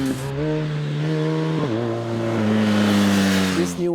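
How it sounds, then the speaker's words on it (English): Engine of a 2019 BMW R1250R naked motorcycle with the 1250 ShiftCam boxer twin, steady loud drone while riding, with a brief dip in revs midway before it climbs and holds again. "This new engine, the 1250 engine right now, with a larger displacement, a bit more horsepower, and this ShiftCam system"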